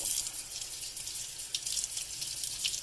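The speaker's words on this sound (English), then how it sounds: "rinse it quickly" Tap water running steadily over wild oyster mushrooms in a sink, a continuous close splashing stream with slight fluctuations as the mushrooms are rinsed.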